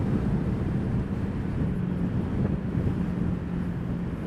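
Strong wind buffets the microphone while riding a stock Honda PCX motorcycle fitted with 17-inch wheels and an aftermarket exhaust, a steady, loud roar with low engine drone underneath and no pauses.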